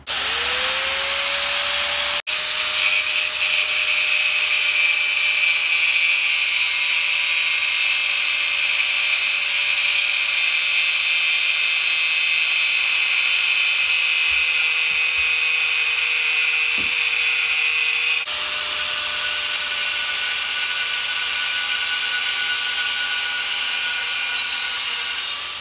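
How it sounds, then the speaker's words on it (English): An angle grinder spins steadily at high speed, grinding the metal tang of an old jointer blade. The whine is loud and unbroken for nearly half a minute, with a brief change in pitch partway through. "I decided to go with my angle grinder because it was much faster."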